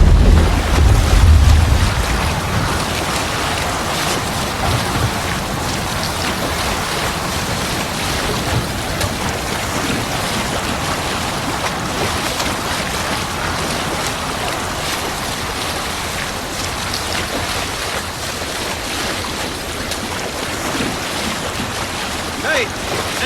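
A Viking longship under sail at sea in Assassin's Creed Valhalla, with a steady wash of waves and wind rushing past close up, a heavier thump at the start, continuous for over twenty seconds.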